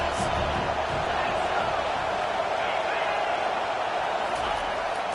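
A stadium crowd at a Syracuse vs Miami football game roars steadily behind the defense on a big third down, a dense continuous wash of cheering and noise with no pause.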